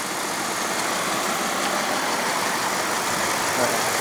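A 1996 Dodge Ram 1500 pickup truck with a Magnum engine idles with a steady, rough rumble, constant and fairly close, with no talking.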